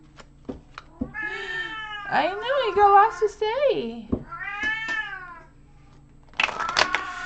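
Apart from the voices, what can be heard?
pet cat Beastie meowing loudly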